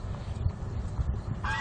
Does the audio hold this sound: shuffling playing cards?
no